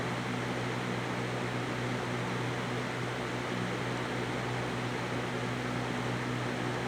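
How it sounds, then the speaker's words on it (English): Laskowood P200i box fan running, a steady, broadband whooshing hum with a low vibrating drone, constant and moderately quiet with no voices. "the Laskowood has a whole lot of vibration, even though it has its feet already on it"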